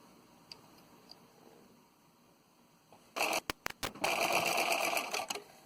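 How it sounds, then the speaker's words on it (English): A sewing machine runs a zigzag stitch across fabric scraps, starting after a quiet stretch with a few faint ticks, then whirring loudly in close bursts broken by brief pauses before a longer steady run. "you're going to start sewing"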